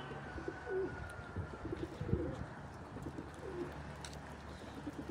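Pigeons coo softly in a loft, their low repeated calls faint against a steady background hum, with no voices.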